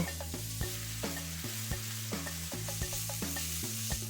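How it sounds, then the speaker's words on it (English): Chicken chorizo sizzling and frying in hot oil in a pan, a steady close hiss broken by regular knocks of stirring, with no voices. "Just gonna heat a little bit of oil, and chorizo goes in."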